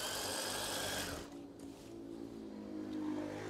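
Sewing machine stitching a curtain hem, a steady loud mechanical whir that runs fast at first, then drops to a slower, softer hum with a faint tonal whine, no talking.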